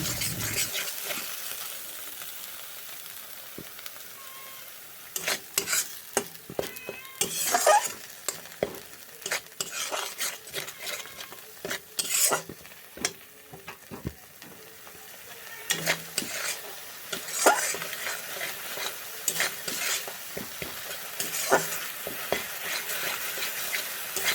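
Grains fry with a steady sizzle in a pan while a utensil scrapes and stirs in irregular bursts, close up and fairly loud throughout.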